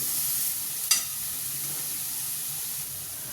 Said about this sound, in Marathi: इथे छान कांदा गुलाबी रंगावर परतून घ्यायचा आहे मी दोन बारीक चिरलेला कांदा आणि हिरवी मिरची घातलेली आहे